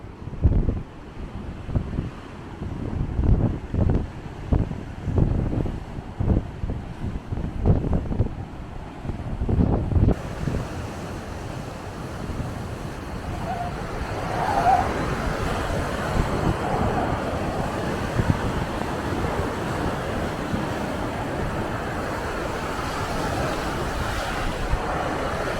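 Huge ocean waves crash and surge along the Kangaroo Island shore, a loud roaring wash mixed with heavy gusts buffeting the microphone.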